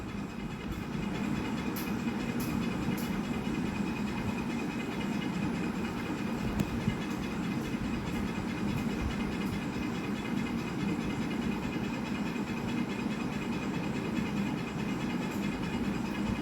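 Small pond fish (charapona) fry in hot oil in a wok, giving a continuous, dense, even sizzle at moderate volume with no talk over it.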